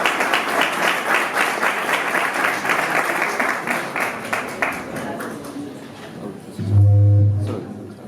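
Audience applause at an artificial intelligence event in Latin America, sustained clapping that gradually tapers off, followed by a brief low hum of equipment near the end.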